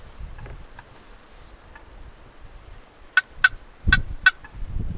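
Sharp, high gobbles from a wild turkey ring out in a quick burst of four, with faint calls earlier, in a quiet outdoor setting with light rustling.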